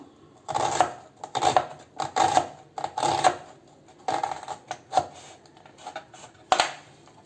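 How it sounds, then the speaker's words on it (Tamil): A knife slices onions lengthwise for bakery-style onion pakoda, giving a series of crisp chopping taps against a board in uneven bursts, close and moderately loud. "இந்த மாதிரி சின்ன சின்னதாக அப்படி நீல வாக்கில் இப்படி கட் பண்ணுவோம்."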